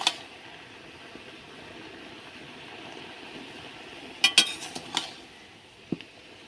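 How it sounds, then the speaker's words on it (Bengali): Taro greens turned over in a cooking pot: a quiet simmering bed broken by a few sharp metal clinks and scrapes of a utensil against the pot, clustered in the latter half. "নিচের কচু ওপরের করে দেবো ওপরের কচু নিচে করে দেবো"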